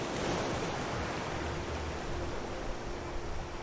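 Ocean waves in the survival video game Raft, a steady broadband wash of surf that fills the whole clip at a moderate level with no talk over it.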